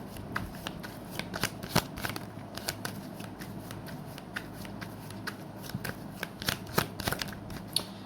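A deck of tarot cards being shuffled, steady riffling and flicking at low volume, close and continuous, with no speech over it.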